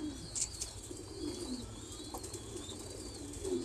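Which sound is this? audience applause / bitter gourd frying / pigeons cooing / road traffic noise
pigeons cooing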